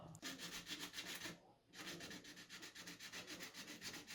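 Hand sanding of an old wooden living room table with 124-grit sandpaper, a steady back-and-forth scratchy rubbing in quick strokes, close and quiet, with a brief pause midway before the strokes resume.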